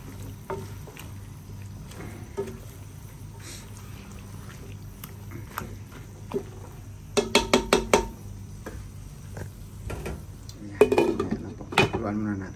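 Pancit bihon rice noodles being stirred in a pan during simple home cooking, with scraping utensil clatter against the metal, a burst of quick clinks in the middle and more near the end over a low kitchen hum.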